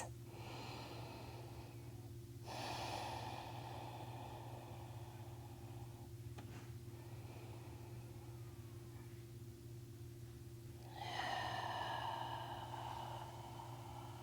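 Slow, deep breathing during a yoga hip stretch, with long airy inhales and exhales spaced several seconds apart over a steady low hum of background noise.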